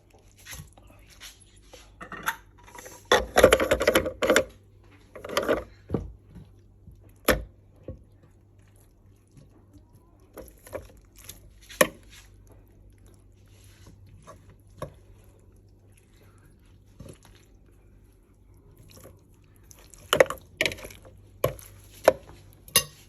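Chili peppers and bell peppers are chopped coarsely on a board, with sharp knife strikes coming in uneven bursts and quiet gaps between them.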